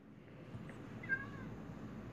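A cat meowing in the video game Minecraft Pocket Edition, one short faint meow partway through, heard over a steady low background hum.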